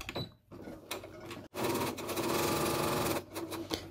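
Sewing machine stitching a seam in a quiet room, with a few short needle taps and then a steady, fairly soft motor hum that runs for nearly two seconds before slowing.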